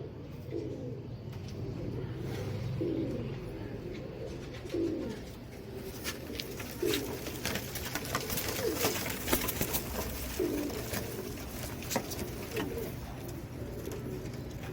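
Royal Teddy pigeons coo repeatedly in a loft, their low rolling calls recurring every second or two over a steady murmur of background noise, with occasional sharper rustles and flutters.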